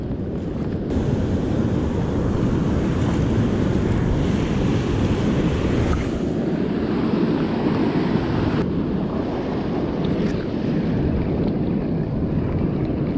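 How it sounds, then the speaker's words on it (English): Ocean surf breaks continuously on a beach during striper fishing, a loud, dense rush of churning water with wind buffeting the microphone and no pauses throughout. "the waves are breaking, but there's a gap in the break"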